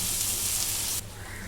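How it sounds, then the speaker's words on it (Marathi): Mutton sautéing in a pan over a high flame gives a steady, close hiss and sizzle that suddenly drops in level near the end and then continues more quietly. "मी असंच मोठ्या गॅसवरती परतून घेते"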